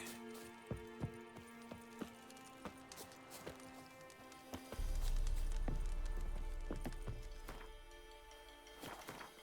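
Galloping horse in The Witcher 3, a steady run of hoofbeats that swells into a loud low rumble midway, with game music and no talk over it.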